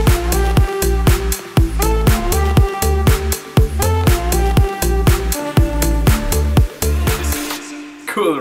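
A remix plays loud and dense: punchy driving beats under bright layered synth chords and a rhythmic bass line, continuing steadily with no talk until a brief fade near the end.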